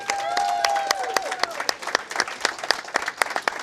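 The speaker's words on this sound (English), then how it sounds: "Give a round of applause to the PWBA" Crowd applause for the PWBA at a women's bowling regional event in eastern Pennsylvania, sustained clapping with distinct sharp individual claps, briefly overlapping a voice at the start.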